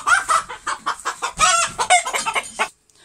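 A rooster clucks in rapid, loud bursts and breaks into a short crowing call, close to the microphone, before stopping abruptly.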